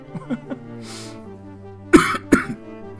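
Two sharp, close coughs land in quick succession after a few softer throat sounds, with no speech and only faint background hum.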